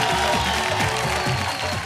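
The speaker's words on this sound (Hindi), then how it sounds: "जोरदार ताली के साथ स्वागत करी अपन न्यायाधीश राजेश पांडे जी के" Audience applause welcomes a judge at a Bhojpuri music singing competition show, a steady wash of clapping lasting the full two seconds over a faint tonal musical background.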